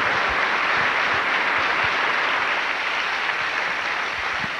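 A studio audience at a talk show applauds a guest entering, with dense, steady clapping that stays loud and even throughout, with no voices over it.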